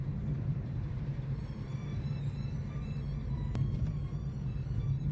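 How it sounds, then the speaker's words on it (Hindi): A Mahindra Scorpio rolls by on a road near a desert village, a steady low engine rumble with road noise held throughout at moderate loudness. "अभी योगेश जा रहा है गाड़ी वाली स्कॉर्पियो जोती।"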